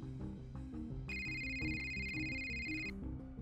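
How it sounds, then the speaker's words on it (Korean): A telephone rings in the occult mystery adventure game Novena Diabolos, a steady electronic trilling tone sounding for about two seconds over looping background music. "전화벨 소리에 깨어났다"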